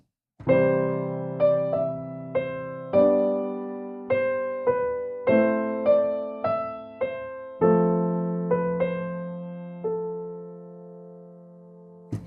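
A solo keyboard plays a slow melody built from rearranged chord tones with added passing notes, each note struck cleanly and left to decay, close and clear, with a brief silence before the end.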